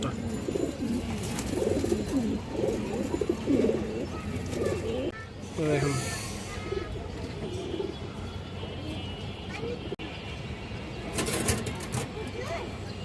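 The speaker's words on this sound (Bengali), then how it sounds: "দেখেন কবুতরের ডাকটা দেখেন" Pigeons coo in repeated low, throaty phrases close by, with soft rustling and a few brief flutters around them.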